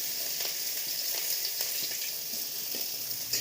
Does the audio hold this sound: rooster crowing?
no